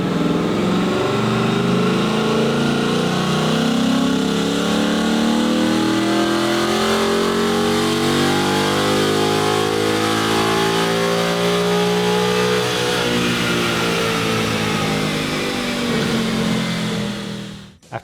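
A 2018-or-later Ford Mustang with a Stage-2 naturally aspirated package roars loudly and continuously on a dyno, its engine pitch climbing steadily through a long wide-open pull before cutting off at the end.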